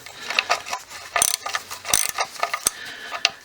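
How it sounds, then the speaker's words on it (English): A hand ratchet clicks in short bursts as it loosens the oil drain plug on a VW MK3, with close, crisp metallic pawl clicks and small scrapes in an irregular working rhythm. "So we're gonna start taking the plug out."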